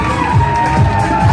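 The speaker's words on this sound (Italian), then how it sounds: "facciamo un applauso a questa splendida famiglia forte" An audience at a live show in a restaurant cheers and claps, with crowd noise, whoops and voices mixed together close by at a lively, continuous level.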